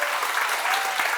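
A lecture audience bursts into dense, even applause, a brief steady wash of many hands clapping together with no talk over it.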